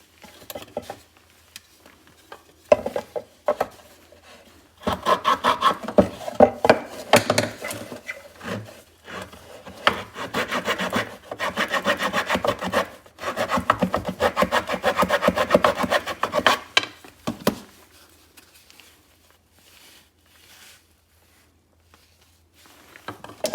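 A tiny Bosch T-shank wood blade fitted to a Leatherman Surge multitool saws through wood in rapid rasping strokes. The strokes come in close, uneven bursts separated by short pauses, then stop near the end.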